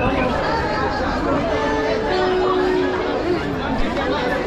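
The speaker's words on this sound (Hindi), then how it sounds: "बहुत ज़्यादा भीड़ है।" Crowd babble at a busy railway platform as a Durg–Puri Express train arrives, steady dense chatter of many voices at close range throughout, with a faint tonal whine midway.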